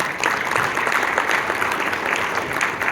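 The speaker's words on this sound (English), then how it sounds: "Let's give her a round of applause." An audience at a marketing talk applauds in a dense, steady wash of clapping that holds at an even loudness throughout, with no voices standing out.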